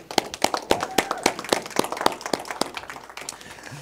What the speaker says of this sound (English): if we could just give Jamie one more round of applause